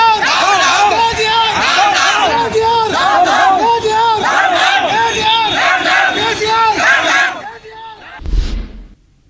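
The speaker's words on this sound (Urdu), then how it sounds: "چھوٹے تاجرین نے وزیر اعلیٰ کے چندر شیکھر راؤ کے خلاف زبردست نعرے بازی کی" A large crowd of small traders chants loudly in rhythmic unison against Chief Minister K. Chandrashekar Rao, repeated slogan-like phrases surging together for several seconds before cutting off abruptly.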